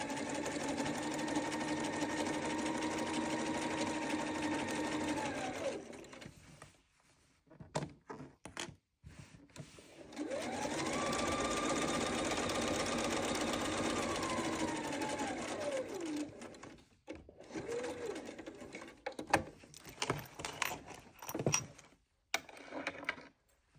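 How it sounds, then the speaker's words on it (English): A domestic sewing machine stitches a seam on a Sew Together Bag, two long runs of whirring motor with rising and falling pitch, separated by clicks and handling noises, with a short final burst. "now we're going to sew down the line again"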